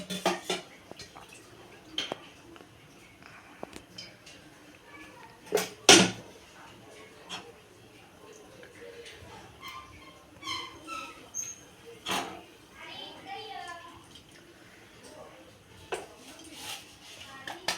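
Pots, pans and metal utensils clink and knock intermittently in a home kitchen while medu vada batter is prepared, with one sharp louder clatter among softer scattered taps and scrapes.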